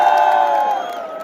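A large crowd at a Kenyan political party rally cheers loudly in a sustained wave of shouting voices that gradually tapers off.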